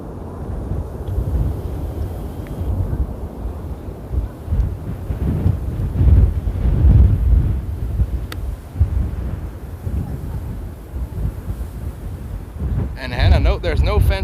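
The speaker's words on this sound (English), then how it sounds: "Probably a runway 24 takeoff early run." Strong gusts buffet the microphone in a steady low roar near runway 24 at Amsterdam's Polderbaan, where a jet's takeoff rumble blends into the wind noise, swelling midway before a sharper burst of buffeting near the end.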